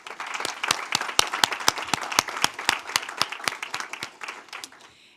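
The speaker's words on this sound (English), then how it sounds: "Let's have a round of applause for Anna Ori." A crowd at a Maryland State Board of Education meeting applauds an honoree with dense, bright clapping that holds steady for several seconds, then thins and fades out at the end.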